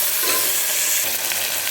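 Chopped tomatoes sizzle steadily in hot oil with fried onions while a spoon stirs and scrapes through them, close and continuous, with no talking.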